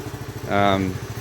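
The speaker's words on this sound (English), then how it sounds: "So we've got the bike running." A Honda CT110 motorcycle fitted with its stock exhaust runs quietly, with a steady low idle thump and a short rise in engine pitch midway before settling back.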